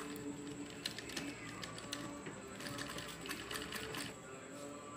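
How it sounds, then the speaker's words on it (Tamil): Sewing machine top-stitching along a turned jute shopping bag, a steady close mechanical whirr with fine rapid needle ticking running the whole time, fairly quiet and uninterrupted. "திருப்பினதுக்கப்புறம் மேலே படிமண தையல் போட்டுக்கோங்க."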